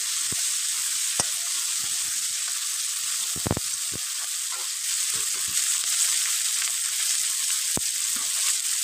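Ingredients for a broiler chicken curry fry in a pan, with a bright continuous sizzle broken by scattered spatula taps and scrapes, no speech.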